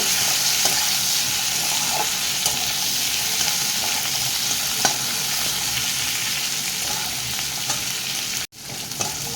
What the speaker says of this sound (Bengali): টমেটো কুচিটা এর সঙ্গে ভালো করে ভেজে নেব